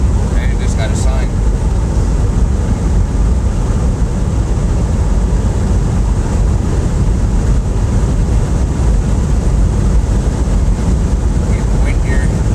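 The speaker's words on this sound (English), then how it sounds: "Getting the wind here." Wind blowing hard across the microphone near a fire station, a loud, continuous low roar and buffeting that fills the whole stretch.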